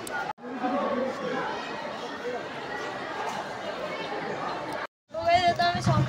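Dense crowd chatter fills a temple's inner sanctum, a steady babble of many overlapping voices close by, broken by a brief silence before the murmur resumes.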